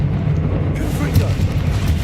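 A Confringo blasting curse goes off in the video game Hogwarts Legacy, a deep, rumbling explosion boom that swells under a spoken voice.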